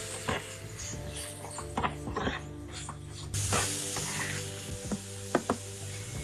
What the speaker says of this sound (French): on laisse cuire la préparation jusqu'à ce que le poivron soit tendre